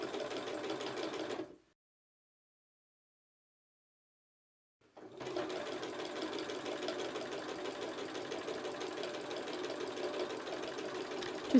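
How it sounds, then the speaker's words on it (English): A sewing machine stitching quilt binding runs with a fast, steady mechanical rattle, stops completely for a few seconds, then starts up again and keeps stitching. "put your quilting foot back down and carry on sewing to the next corner"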